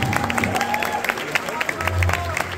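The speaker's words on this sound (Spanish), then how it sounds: "Fuerte aplauso" Scattered clapping and crowd noise at a fursuit dance competition awards ceremony, mixed with voices and background chatter.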